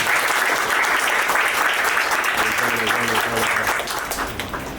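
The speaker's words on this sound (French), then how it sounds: "On applaudit encore pour l'officier." Sustained applause from a crowd at a civil wedding ceremony, loud and dense throughout, easing slightly near the end.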